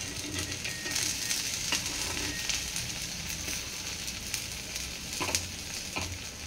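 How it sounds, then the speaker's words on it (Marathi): Thalipeeth frying in oil on a pan, a steady close sizzle with scattered small crackles and pops, no voices. "अशा प्रकारे दुसरंही थालपीठ आपलं भाजलं, एका साईडनं भाजून झालेलं आहे."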